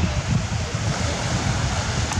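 Calm sea washes gently onto the beach at Petrovac in the afternoon, a soft, steady surf hiss with light wind noise.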